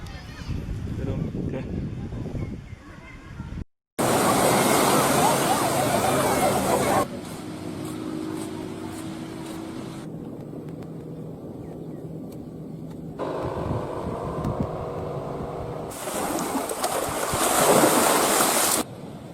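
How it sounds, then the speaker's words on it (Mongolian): Ocean surf rolls onto a beach on Langkawi island, Malaysia, a loud, steady wash with wind buffeting the microphone, broken into several cut sections with faint background chatter. "Малайзи Лангкави арлын Пантасина далайн эрэг дээр байна."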